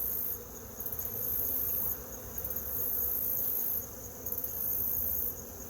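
Honeybees buzz around an opened beehive while a keeper combines two hives, a dense steady drone with a louder high whine that swells and fades in waves, close by and with no speech.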